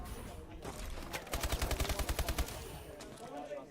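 Automatic gunfire from a competitive video game match rattles off in a rapid, evenly spaced burst of about a dozen shots, moderately loud over a faint background.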